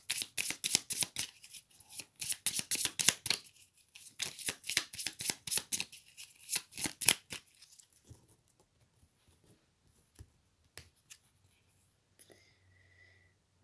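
Tarot cards are shuffled close up in quick rapid riffling bursts for several seconds, then a few soft slides and taps as single cards are drawn and laid down, followed by near silence.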